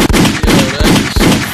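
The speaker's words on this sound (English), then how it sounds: "Let me hit my fucking gunshot, man" Gunshot sound effect played during a podcast recording, a series of repeated sharp bursts roughly every 0.4 seconds, loud and close over a dense noisy background.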